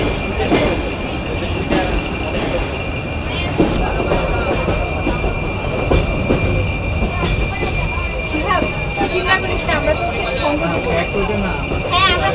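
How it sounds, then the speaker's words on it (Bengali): The Paharika Express, a Bangladeshi train bound for Chittagong, rumbles and clatters steadily as it pulls out of Sylhet railway station, with rail noise continuous throughout and a voice talking over it. "আমরা সিলেট রেলওয়ে স্টেশন ছেড়ে চলে যাচ্ছি চিটাগাংয়ের উদ্দেশ্যে।"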